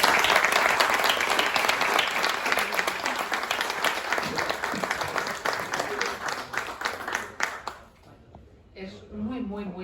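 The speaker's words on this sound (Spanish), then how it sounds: "Un aplauso para Begoña González" Audience applause at the Odilo historical novel award ceremony, a dense, loud burst of clapping that holds steady for several seconds, then thins out and fades as a voice starts speaking near the end.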